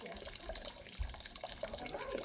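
Blackberry soda pours in a steady trickling stream, close and faint, with small splashes.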